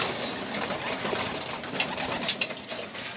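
Pets pigeons coo softly nearby, with a few brief calls rising over a low, steady background and a sharper chirp partway through.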